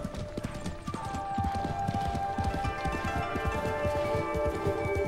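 Horse hooves in Ghost of Tsushima beat a quick, steady clip-clop rhythm close up, loud over a bed of game music and ambience.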